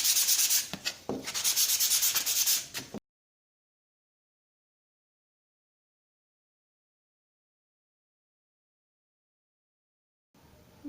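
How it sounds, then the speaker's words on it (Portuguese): Fine P240 sandpaper rubs back and forth over an MDF box in quick, close strokes for about three seconds before the sound cuts to silence. "Vou começar então lixando a minha caixinha para tirar a aspereza. Use uma lixa fina."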